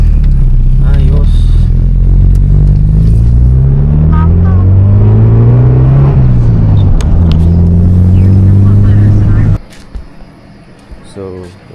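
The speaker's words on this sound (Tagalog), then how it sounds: "So, yun yung makina niya guys. D15B." A Honda Civic EG hatchback's D15B engine revving hard close by, pitch sweeping up and down through several loud pulls before cutting off abruptly to a quiet idle, with a voice speaking over it.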